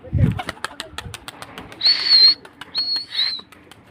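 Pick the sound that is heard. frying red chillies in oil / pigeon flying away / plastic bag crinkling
pigeon flying away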